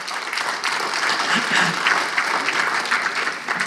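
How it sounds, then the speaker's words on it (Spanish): A church congregation claps steadily and loudly for a few seconds, a dense continuous applause with no voices standing out. "Dale una ofrenda de palmas."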